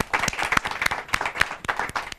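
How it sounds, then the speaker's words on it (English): A studio audience at a New York TV show applauds in a dense burst of clapping, with sharp individual claps standing out over the crowd. "Big round of applause."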